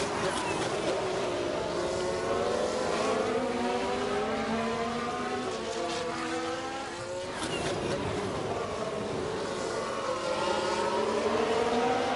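Race car engines in the video game F1 Manager 22 at Baku, with a Ferrari among the cars: continuous high-revving engine whine sweeping up and down through gear changes, steady and loud throughout.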